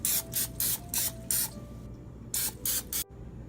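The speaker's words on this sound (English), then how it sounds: "you take a 13x9 cooking pan and you're gonna spray this down" Cooking spray hisses from a can onto the bottom of a 13x9 baking pan in several short bursts, close and fairly loud, with brief pauses between them and no talk.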